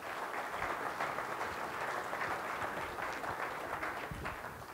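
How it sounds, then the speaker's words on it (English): A conference general-session audience applauds a speaker, a dense, even wash of clapping from a crowd that holds steady for several seconds before starting to fade, heard at a moderate distance. "let's give him a round of applause"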